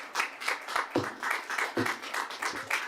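An audience claps at a regular council meeting, a brisk, moderately close patter of many hands with uneven, overlapping claps running steadily throughout, no voices over it.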